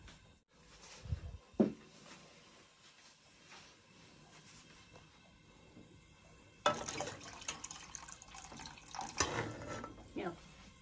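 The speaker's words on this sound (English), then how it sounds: "I'll put in a little drop of water into it." Water is added to a pot of Irish stew, with a short splash early on and then a longer stretch of running, pouring water, fairly faint, followed by clatter.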